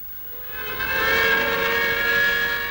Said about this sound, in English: sirens announce the end of a working shift in the valley